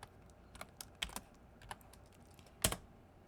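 Keys tapped on a computer keyboard while entering a code, a sparse series of quiet clicks with one sharper, louder keystroke near the end, no voices.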